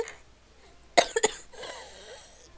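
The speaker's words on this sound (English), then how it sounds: "Sorry for the coughing." A short burst of coughing, two or three sharp coughs close together near the mic, followed by quiet breathy noise.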